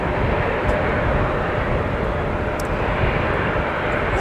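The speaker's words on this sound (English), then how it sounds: "We got a flex jet Embraer Phenom on the move on taxiway Alpha for you." A Flexjet Embraer Phenom private jet taxis on an airport taxiway in a winter storm, its engines giving a steady, broad jet roar that holds constant throughout, fairly close and with no voices.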